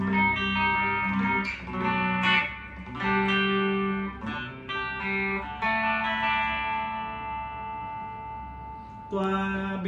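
An electric guitar built in the Music Man Axis style plays sustained chords and notes through a distortion effect, thick and loud, with a few pauses between strummed phrases and no talking.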